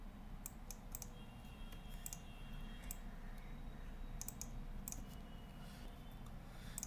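Soft, quick keystrokes tap on a computer keyboard while a title line is entered into an Excel sales dashboard, a faint scatter of clicks over a steady low hum.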